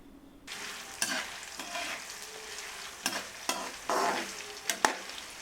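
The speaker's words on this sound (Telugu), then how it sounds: "దానిలో ధనియాలు వేసి కొంచెం సేపు వేయించండి" Dried red chillies and coriander seeds fry in hot oil for a ground black chilli powder, a steady close sizzle broken by several sharp scraping stirs spaced about a second apart, with no talking.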